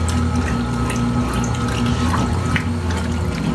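A steady whirring, watery pump on a 1980s Kenmore laundry center churns continuously with a low hum and splashing liquid, close and constant throughout.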